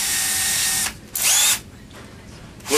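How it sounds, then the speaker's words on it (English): A power drill bores into wood during furniture repair, giving a loud continuous whine that stops, then a brief rising burst and a quieter tail before revving up again, with no talk. "put this drill through the wood here"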